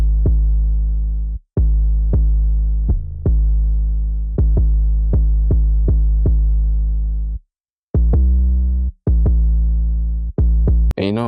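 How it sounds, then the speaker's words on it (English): A deep 808 bass pattern for a dark Detroit-style beat thumps out in sustained, gliding hits, arranged in bouncy groups of three with short gaps of silence between phrases, loud and alone. "the 808 pattern sounds like this"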